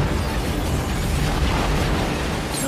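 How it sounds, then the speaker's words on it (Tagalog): A bomb goes off beside a building in a mafia action film: one loud, sustained blast of deep rumbling roar that fills the whole clip without letting up. "isang malakas na bomba ang sumabog"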